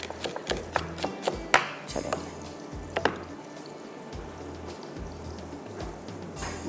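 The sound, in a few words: chopping onion finely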